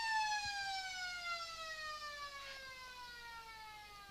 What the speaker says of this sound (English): The siren sounded here at the sports ground.